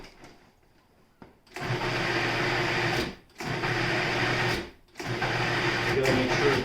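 A blender whirs through falafel mix seasoned with pepper, cumin and garlic powder, a loud steady motor drone running in three long bursts with brief stops between them.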